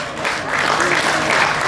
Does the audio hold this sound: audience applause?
yes